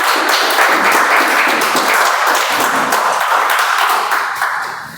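A large audience at a club speech meeting claps loudly and steadily for the full stretch, a dense even roar of hands that starts to fade near the end.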